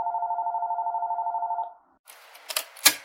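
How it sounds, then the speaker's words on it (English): A telephone rings with a steady warbling electronic trill for about a second and a half before an answering machine message, then stops and is followed by soft clicks and handling noises. "We can't come to the phone right now, so leave a message after the beep."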